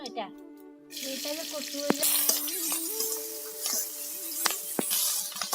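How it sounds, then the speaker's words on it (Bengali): Leftover curry and rice fried together in a pan crackle and sizzle at close range, with a spatula scraping and tapping against the metal at irregular moments, no one speaking. "এই যে বাসি তরকারি আর ভাত ছিল একসঙ্গে দিয়ে ভেজে নেওয়া হচ্ছে"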